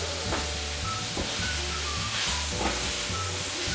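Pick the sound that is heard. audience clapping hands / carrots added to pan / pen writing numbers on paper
carrots added to pan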